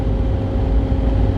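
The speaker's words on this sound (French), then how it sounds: "Là, je suis sur la route. Là, je suis en voiture." Steady low rumble of a car cabin on the move, constant road and engine drone with no voices, fairly loud and unbroken.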